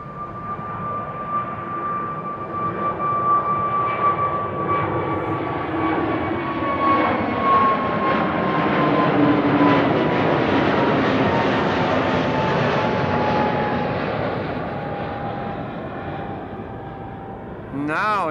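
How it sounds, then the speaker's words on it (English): A KLM Airbus A321neo jet departs Amsterdam Schiphol Airport bound for Edinburgh, a steady engine whine and broad roar rising and gradually fading over the distance, with a voice talking over it. "KLM A321neo in the foreground, going to Edinburgh, Scotland. Lights out, gear up."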